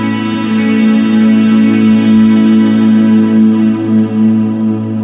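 A 1972 Telecaster using a coil-split middle pickup rings out a sustained, clean, ambient chord, with a wide, washed shimmer from effects holding steady and loud throughout.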